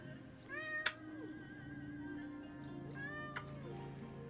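A cat meows twice, close and fairly soft, the two drawn-out calls separated by a few seconds over a low steady hum.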